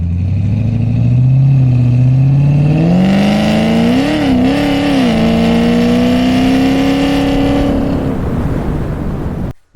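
A supercharged Cadillac CTS-V accelerates hard through a long pull, its engine note climbing steadily and loudly up close with a brief shift wobble midway before easing off near the end.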